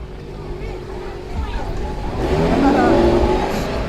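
A car engine revving and accelerating hard on prom day, a loud rising roar that builds and swells toward the end, close by, with talk blending in.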